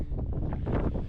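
Wind buffets the microphone on a run from Kinlochleven to Fort William: a steady, close, broadband rush that swells and dips slightly for about a second, with no voices.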